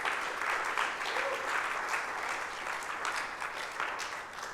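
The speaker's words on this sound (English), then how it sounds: "please, a round of applause, ladies and gentlemen," Applause from an audience at a conference talk, a steady wash of many hands clapping at moderate distance that holds evenly throughout.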